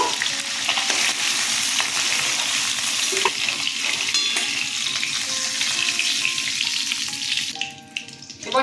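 Gobindobhog rice grains sizzle and crackle steadily in a hot pan, with scraping stirs throughout, close and loud; no talking.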